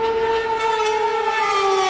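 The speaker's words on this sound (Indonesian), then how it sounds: "Terdengar adanya suara sirine yang meraung-raung karena serangan rudal dari Iran ini." Air raid siren wailing during an Iranian missile attack on Israel, a steady loud tonal howl with strong harmonics that holds and slowly drifts in pitch, with no voices present.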